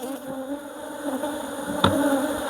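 Honeybees drone in a steady, close buzz during a beehive inspection in Nigeria, with a brief knock near the end and no talking.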